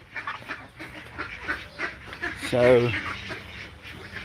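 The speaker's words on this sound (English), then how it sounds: "it's all good here by the ducks" Ducks quack in a short burst near the middle, briefly rising above a man's ongoing speech outdoors, with faint bird calls and background noise around it.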